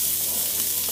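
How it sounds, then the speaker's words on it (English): Chopped onions sautéing in a pan for a vegan oat burger, a brief, steady, close hiss of sizzling with no talking. "you will saute these onions until they're brown"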